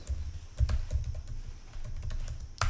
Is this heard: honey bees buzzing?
no